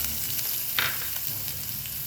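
Onion frying in ghee in a pan, a steady close sizzle with a brief louder crackle partway through and no talking.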